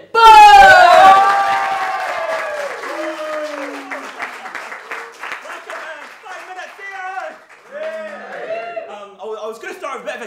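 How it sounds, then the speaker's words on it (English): Applause and cheering from a comedy club audience greeting a stand-up comedian, loud at first and tapering off, with shouts and laughter mixed in and an announcer's voice over the crowd. "I want you to start clapping your hands and welcome to the stage,"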